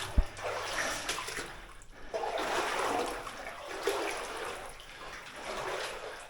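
Water runs and trickles through an old abandoned mine, a steady wash with swelling and easing surges, close and reverberant, with a brief knock near the start.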